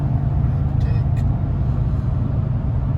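Steady low road drone and engine rumble from inside a 2019 Toyota Tundra cruising in sixth gear with the converter locked, about 80 mph at 2,000 RPM, continuous and even throughout.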